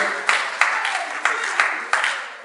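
Congregation applauding in church: a continuous wash of clapping with a few sharper accented claps standing out at roughly regular intervals, loud and close, with no talk over it.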